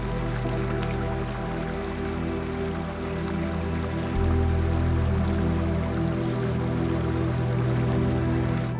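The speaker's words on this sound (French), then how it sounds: "je marche à côté d'un petit ruisseau avec le petit bruit de l'eau" A small mountain stream on a high plateau trail flows with a steady, soft babble and trickle close by, continuous throughout with no talking.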